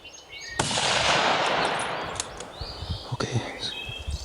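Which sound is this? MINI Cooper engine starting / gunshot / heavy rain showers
gunshot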